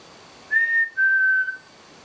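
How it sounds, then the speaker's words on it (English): Person whistling in a quiet old house, two clear sustained notes, the first slightly higher, close and alone against near silence. "If I whistle, can you whistle back?"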